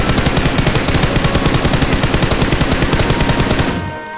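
Rapid automatic gunfire from a mobile shooter game rattles in one loud, sustained burst of evenly spaced shots that cuts off abruptly near the end.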